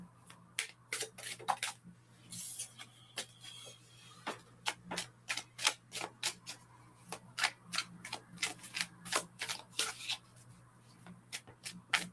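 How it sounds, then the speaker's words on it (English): Rapid papery flicks and riffles of tarot cards being shuffled, in quick irregular bursts, close to the microphone with a low steady hum underneath. "Can't seem to shuffle properly today."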